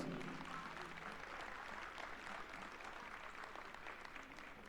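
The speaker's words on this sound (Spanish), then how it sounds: "El aplauso para ellos." Applause from the audience at the XIX Political-Educational Congress of CEA 2023, a steady, sustained wash of clapping that holds fairly evenly for nearly five seconds and tapers slightly toward the end, with no voices over it.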